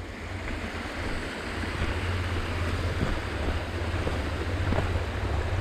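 A waterfall roars continuously beside a motorcycle trail in Romania, a dense, loud wash of rushing water with a steady low rumble, heard alone without talk.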